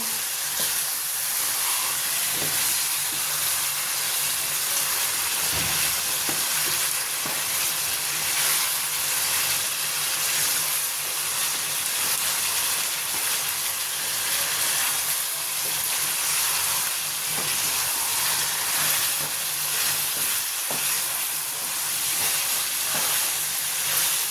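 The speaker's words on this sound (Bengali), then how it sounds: "আমি খুব করে সটে করে নিচ্ছি মাছের মাথাটা, কাঁটাগুলো সটে করে।" A Rui fish head and its bones sauté in a hot pan, giving a steady, continuous sizzle and hiss with occasional faint stirring knocks, close and even throughout with no voices.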